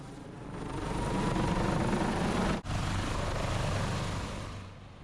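A New Jersey State Police helicopter lands near an EMS building in Waterford Township, New Jersey, its rotor and engine producing a loud, steady roar that briefly cuts out midway, then fades slightly.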